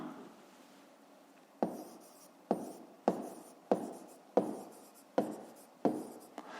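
A pen writes a math answer on paper in a quiet room, about seven distinct scratching strokes following one another at a steady pace, close and clear.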